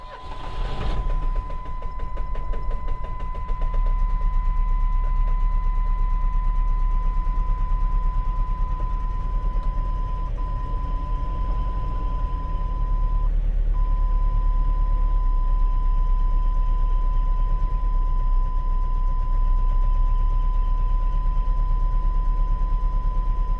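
Engine of a 1997 Chevy S10 cranking and running just after a fuel injector replacement, a steady loud low idle drone with a constant whine, starting with a sharp burst and continuing uninterrupted.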